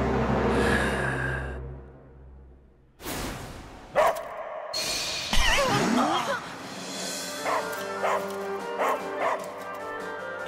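A voice playing a character in the anime Dungeon Meshi imitates a hunting dog, giving a run of eager yips, whimpers and barks, some loud and sharp and others softer, separated by brief pauses.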